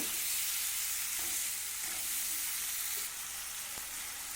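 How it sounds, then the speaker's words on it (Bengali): Potatoes and spices being stirred and fried together in a pan for a pointal (pointed gourd) curry, a steady close sizzle with occasional scraping stirs and no talking. "সব কিছু একসাথে ভালো করে আর একবার কষিয়ে নেব"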